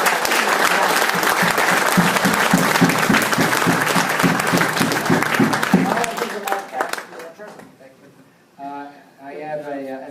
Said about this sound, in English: let's have a big round of